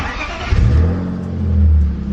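A cold BMW E46 engine, with its double VANOS being rebuilt, cranks briefly and catches, settling into a deep low idle rumble that swells once, close and loud, no speech.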